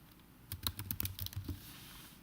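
A quick run of soft keystrokes on a computer keyboard, about a dozen close, quiet clicks in an uneven rhythm over a second, with no talking.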